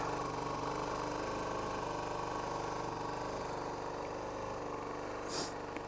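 An old vehicle's engine idles steadily after its first start in months, a loud, continuous, even rumble close by, with a brief bright hiss near the end.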